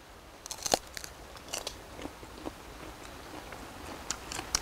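Someone bites into and chews crisp apple jujube fruit, giving a series of sharp, close crunches in irregular bursts that fade into softer chewing.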